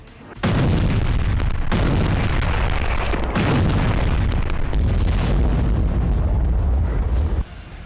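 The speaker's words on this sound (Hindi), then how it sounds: "महज 35 मिनट में कुल 30 धमाके।" Heavy, continuous booming blasts from artillery shells roll one after another near the Israel–Lebanon border, loud and dense, exploding in rapid succession with brief gaps between volleys.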